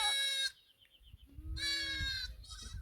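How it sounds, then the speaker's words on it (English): Goats on a farm in Kamuli District bleat loudly and nearby in repeated wavering cries, one call overlapping another, over low outdoor rumble. "So we're out here to look at some of these goats"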